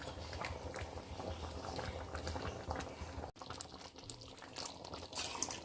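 Mutton curry with chana dal bubbles steadily in a pot, a continuous close, moderately loud boiling and simmering that briefly dips quieter partway through before resuming.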